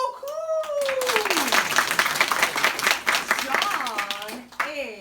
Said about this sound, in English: Non, classe, applaudissez John.